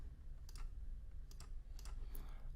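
Quiet typing on a computer keyboard, a few soft clustered key clicks over a low hum.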